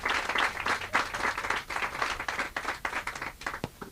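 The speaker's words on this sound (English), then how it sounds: "clap your hands for the King of Kings" An audience claps at a wellness centre ground breaking ceremony, loud, quick, continuous hand claps with a lively, uneven rhythm filling the whole stretch.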